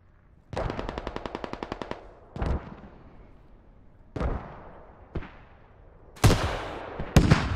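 Gunfire in Squad: a rapid automatic burst of about a dozen evenly spaced shots, then single loud cracks and booms at irregular gaps, some near and sharp, some duller and more distant.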